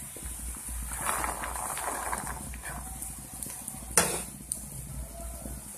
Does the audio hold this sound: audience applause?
no